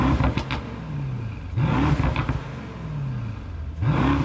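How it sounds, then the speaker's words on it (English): Brabus Rocket GT with a 4.5-litre V8 revs its special exhaust in three rising and falling blips, loud and close, with crackling pops as each rev drops away and no talking. "Of course, as with every Brabus, it comes with a very special exhaust system."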